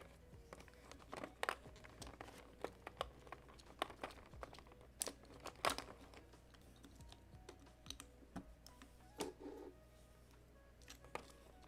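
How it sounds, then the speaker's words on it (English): Plastic keycaps clack and snap sharply as they are pried off a keyboard, a steady run of irregular close clicks with a few louder pops and some faint rustling, no voices. "So hard to get the keycaps out of this thing."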